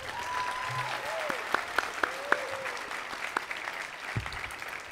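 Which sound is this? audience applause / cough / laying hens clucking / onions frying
audience applause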